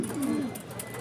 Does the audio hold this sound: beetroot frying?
no